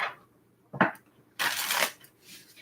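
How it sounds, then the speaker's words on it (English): Tarot cards shuffled by hand in two quick bursts, a short riffle followed by a longer rustling shuffle, close and fairly quiet, with no talk. "this will be our last shuffle"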